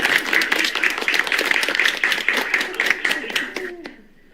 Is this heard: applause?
yes